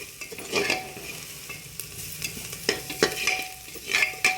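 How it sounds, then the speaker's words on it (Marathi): Spiced misal gravy mixture sizzles in a pan while a spoon stirs it, giving soft frying hiss broken by repeated close scraping strokes. "परतून घेऊ."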